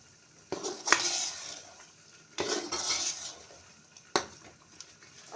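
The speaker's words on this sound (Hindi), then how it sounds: "अब हम इसको जो है इसमें अच्छे से मिक्स कर देंगे इस ग्रेवी में।" Chicken pieces being stirred into a butter chicken gravy, with a spoon scraping and clinking against the pot in three loud bursts of a few seconds each, separated by quieter gaps, with no talking.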